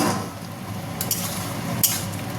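A pot of potato, egg and aubergine curry bubbling at a boil, with a steady low simmering sizzle and a couple of sharp clinks from a utensil against the pot.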